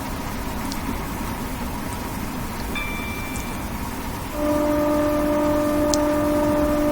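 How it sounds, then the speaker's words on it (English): A passing train in Train Simulator 2016, the same model going the other way, roars as a steady broadband rumble that swells louder partway through, with sustained tonal hums appearing as it draws alongside. "Train going the other way."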